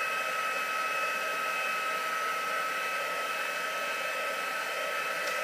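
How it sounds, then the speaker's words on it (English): Handheld heat tool blowing hot air to melt embossing powder on cardstock, a loud, steady whooshing roar that holds unchanged for several seconds with no talking. "take my heat tool, and what I'm going to do is to melt the embossing powder."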